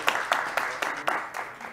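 Audience applause at a literary prize ceremony in Abitibi-Témiscamingue, heard as a run of sharp, evenly spaced claps, moderately faint, with light murmuring underneath.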